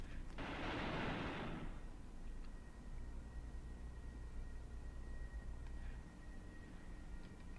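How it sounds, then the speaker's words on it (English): Soldiers fire a DP machine gun in the wartime tactics game Graviteam Tactics. A short, distant, noisy burst of rattling fire lasts about a second, then dies back into a steady low battlefield rumble. "the Russians are now shooting back with DPs as well"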